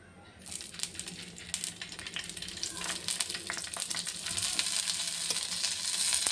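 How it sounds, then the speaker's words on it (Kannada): Chillies fry in hot oil for a roast, a continuous crackling sizzle that builds gradually louder and brighter, punctuated by occasional sharp pops and light stirring clinks. "ಎಣ್ಣೆ ಕಾಯ್ತಾ ಇರುವಾಗ ನಾವು ಒಂದೊಂದೇ ಮೆಣಸಿನ್ಕಾಯನ್ನ ಹಿಂಗಿಟ್ಕೊಡೋಣ."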